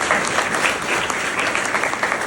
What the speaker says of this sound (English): another huge round of applause to Holly.